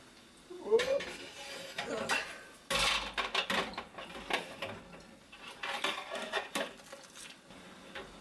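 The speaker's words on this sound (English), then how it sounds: "I like to hang in my cooling spiral." A metal cooling spiral is lowered into a brewing kettle, with close clanks, knocks and scraping metal in irregular bursts, louder near the start, under faint background noise.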